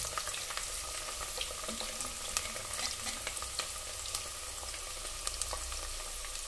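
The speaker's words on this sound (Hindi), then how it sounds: "प्याज को अच्छे से फ्राई कर लेना है" Onions sizzle and fry steadily in hot oil in a pan for a mutton curry, with a constant crackle and occasional stirring clicks, moderately close and without talk.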